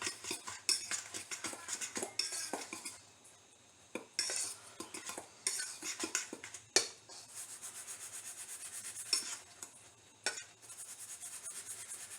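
Metal fork scraping and tapping against a bowl while mixing canned cream corn, in short uneven bursts of rubbing strokes with brief pauses, close and fairly quiet, no talk.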